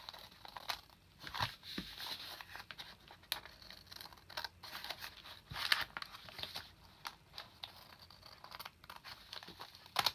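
Scissors cut around paper for a junk journal cover, giving quiet, irregular snips and crinkly rustles of the paper, close by and soft, without any talking.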